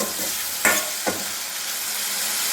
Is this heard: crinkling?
no